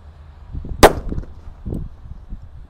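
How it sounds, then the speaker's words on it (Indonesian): A tongkat kera kaget stick firecracker bursts outdoors in one sharp, loud crack, followed by faint rustling and low sounds as it dies away. "Ini adalah mercon tongkat kera kaget bosku"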